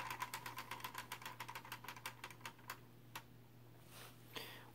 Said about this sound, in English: that little clicking from the mechanism actually sounds kind of like a helicopter